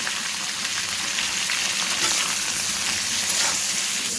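Raw mango pieces frying in hot oil for a pickle, giving a loud, continuous close-up sizzle and crackle with faint stirring underneath.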